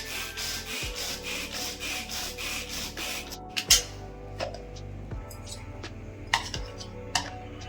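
A mixer grinder coarsely grinds green chillies, garlic and roasted seeds in a home kitchen, a steady rough whirring that pulses in short bursts and stops, with clinks of the jar and lid between runs.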